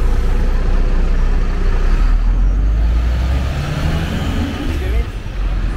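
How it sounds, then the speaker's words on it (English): A car drives along a road on private property, its engine a steady low rumble close by, with people talking throughout. "That's unusual for a car to come this way, like that."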